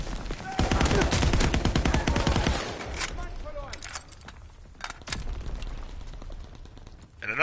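Rapid automatic gunfire rattles in a dense sustained burst from a WWII shooter game, then breaks into scattered single shots and shorter bursts, loud and close, with battle noise underneath.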